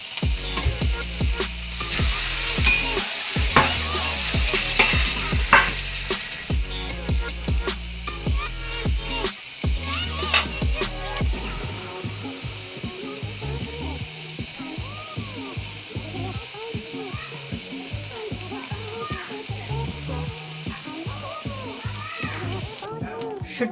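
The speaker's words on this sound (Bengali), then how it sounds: "মাছটা ঠিক এরকম ভাজা হবে" Dried shutki fish stir-fries in a pan after being rinsed, giving a steady sizzle and spitting hiss throughout, loud at first and easing after about ten seconds while music plays underneath.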